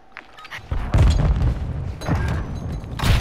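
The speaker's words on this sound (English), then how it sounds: "I'm getting better at these grenade throws." Grenade blasts in a shooter video game arrive as several heavy booms in quick succession, loud and close, with rumbling debris between them.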